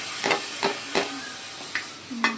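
Tomatoes sizzle in a hot pan while making Gujarati-style batata poha, with a constant hiss broken by several sharp scraping stirs of a spoon, close and without any talk.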